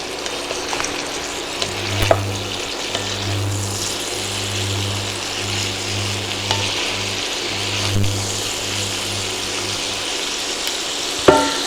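Pork sizzles and fries steadily in a hot pan for Georgian odjakhuri, a continuous crackling hiss with a low hum from a nearby hood or burner underneath and a couple of sharper clinks.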